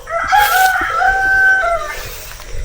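Native chickens in a coop crow loudly and close by, one long rooster call sounding alone with faint clucking and farmyard rustle underneath.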